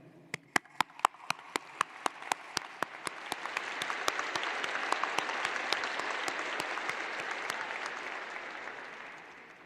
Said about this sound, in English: I'd like us to take a moment to applaud all the families